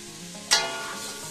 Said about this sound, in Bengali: টমেটো দেব আর মটরশুঁটিটাও দিয়ে দিচ্ছি। আবার আমি এটা 1 মিনিট একটু ভেজে নেব